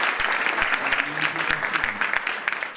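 Spanish-language theatre lecture audience breaking into applause for a professor, dense sustained clapping from a crowd in a hall, fairly close and steady.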